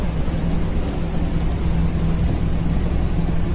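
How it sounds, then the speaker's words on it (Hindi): Steady rain falling outside under overcast skies in Azerbaijan, a continuous broadband hiss with a low rumbling undertone throughout. "बारिश है बाहर"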